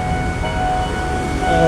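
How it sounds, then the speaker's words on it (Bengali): A train approaches a road crossing in Bangkok, a loud continuous rumble of rail traffic with faint tonal lines, close by and without talk. "খুব সম্ভবত ট্রেন আসতেছে"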